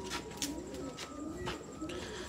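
Breeder pigeons in a Faisalabad loft coo softly and repeatedly, a faint, low, rolling murmur over quiet background hiss.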